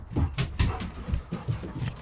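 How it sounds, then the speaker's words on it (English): A puppy whimpers and pants close by, with short breathy pants and soft whines in an irregular rhythm, heard alone. "Well, hello, my crazy puppy."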